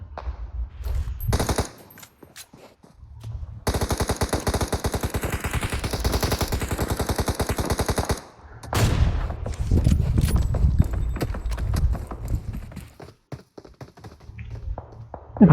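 Gunfire in the PUBG Mobile video game, with a long sustained burst of rapid automatic fire followed by scattered single shots and short bursts, loud and close.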